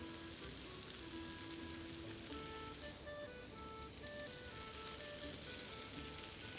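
Onion and chicken breast frying in a hot pan with fat and butter, giving a steady, dense crackling sizzle throughout, close and even, with faint kitchen tones in the background and no talking.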